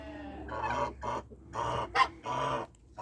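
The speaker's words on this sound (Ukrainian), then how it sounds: "Декілька курей кури не дуже хочуть бігти сюди." Hens cluck in short bursts with brief pauses, fairly close, against a steady low outdoor hum.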